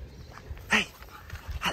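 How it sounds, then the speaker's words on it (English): A dog lets out a few short, high whimpers and yips, fairly close, with quiet pauses between them. "Cute dog"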